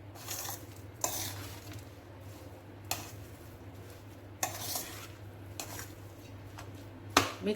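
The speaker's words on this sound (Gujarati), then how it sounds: "આવી રીતે હલાવીને બધું મિક્સ કરી લઈશું આપણે" Spoon stirring and mixing ragda pani puri masala in a pot, scattered scraping and clinking strokes at uneven intervals over a steady low hum, fairly quiet and close.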